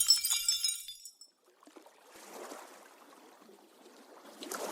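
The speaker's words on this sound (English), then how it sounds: "all he hears is the sound of breaking glass" Breaking glass sound effect: a bright, shattering crash at the start tails off into a brief silence, followed by soft, diffuse tinkling and wash-like texture that builds again near the end.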